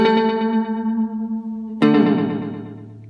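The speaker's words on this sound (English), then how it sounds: "here we're getting into that very fast delay that you often associate with country music" A Boss DD-7 digital delay pedal set to a very fast delay repeats a sustained guitar note in rapid, shimmering echoes, then a fresh strum is struck and its repeats trail off, loud and close.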